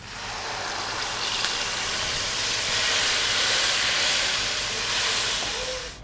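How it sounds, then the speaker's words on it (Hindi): Tomato and green chili paste sizzles in hot oil after the spices are fried, a loud continuous hiss that swells and fades slightly, with no one talking. "मसालों को भूनने के बाद हम इसमें शामिल करेंगे टमाटर और हरी मिर्च का पेस्ट।"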